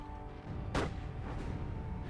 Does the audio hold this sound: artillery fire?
yes